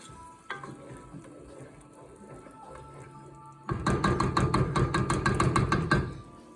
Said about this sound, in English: we stir it all up so everything's getting all that flavor